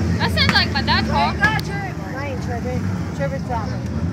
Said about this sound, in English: That's a dead car. Listen to that.